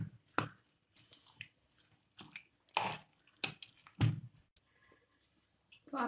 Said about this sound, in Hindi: पानी के साथ हम अच्छे से खिचड़ी को मिक्स करेंगे।